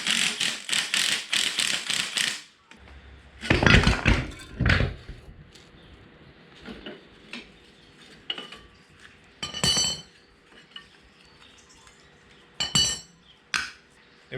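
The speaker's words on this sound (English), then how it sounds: "Might actually go get the impact driver." An impact driver on 19mm axle U-bolt nuts of an FJ45 axle being stripped down rattles in a rapid hammering burst, then fires a couple of louder short bursts, followed by scattered metallic clinks of sockets and parts.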